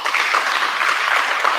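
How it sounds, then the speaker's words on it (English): An audience claps for a young child participant at a science innovation awards launch, a dense, steady wash of applause lasting throughout, fairly loud and with no voices over it. "I think we need to clap"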